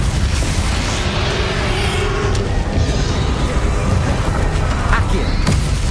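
A spell-combat burst from Hogwarts Legacy, a dense booming, crackling magical blast filling the space with rumbling low energy and a few sharp pops over continuous loud game noise.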